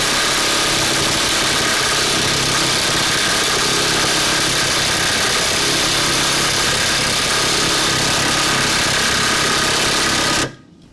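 Makita 18V LXT brushless impact driver (XDT14T) running on its medium setting, a loud, steady buzzing whir held for about ten seconds before cutting off abruptly.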